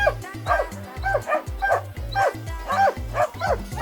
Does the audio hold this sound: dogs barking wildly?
yes